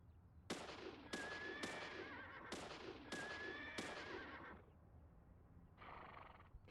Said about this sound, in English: let's go shoot a horse with a gun and see what happens